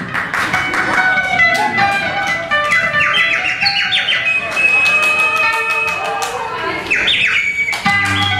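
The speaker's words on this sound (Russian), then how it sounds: "Кто пропустил в зал птицу?" A bird loose inside a concert hall chirps and tweets in rapid bursts of high, bright calls, fairly close and loud, with squawky notes and a murmur of background noise.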